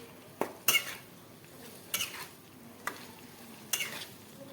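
A spoon scrapes and clinks in a pan as green chili is stirred into a Kathiyawadi dambha vegetable curry, giving a few sharp clanks spaced over a soft background with no talking.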